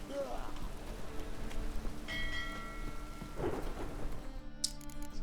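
Steady rainfall in The Witcher III, a constant hiss of rain with low rumbling and faint tonal game sounds layered over it, no talking.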